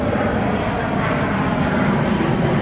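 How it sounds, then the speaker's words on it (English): A fixed-wing airplane passes overhead near Worcester Airport, a steady broad engine drone that stays loud and even throughout, with no talking. "There's a plane."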